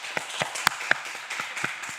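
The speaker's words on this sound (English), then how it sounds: "Another round of applause to all the founders who got up here and pitched." Scattered claps from a crowd at a live startup pitch night in New York, a steady run of separate hand claps at moderate volume with no speech.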